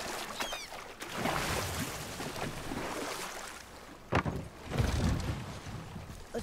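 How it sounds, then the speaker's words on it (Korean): Water lapping and splashing around a boat in God of War, soft and continuous with gentle swells, a couple of sharper splashes near the end, and wind-like rushing in the background. "물소리 좋아요?"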